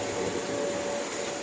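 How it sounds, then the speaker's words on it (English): A vacuum cleaner cleaning the carpet of a car interior, a steady unbroken whine with a constant pitched hum, close and continuous throughout with no talking. "Back to vacuuming."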